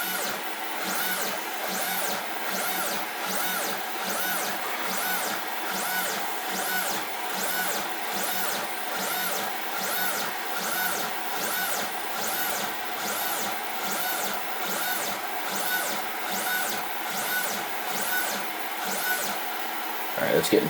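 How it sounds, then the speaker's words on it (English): A Snapmaker 2.0 CNC machine lowers its Z-axis with a steady, faint motor whine and rapid regular stepper pulses that run without a break, with no talk over it. "So I'm going to bring the Z-axis down."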